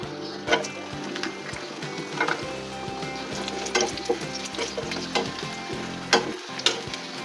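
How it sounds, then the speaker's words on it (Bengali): Homemade bori lentil dumplings frying in oil, a steady bubbling sizzle close by with intermittent sharp clinks and scrapes of a spatula against the pan. "এই যে এখন আমরা বড়ি ভাজবো।"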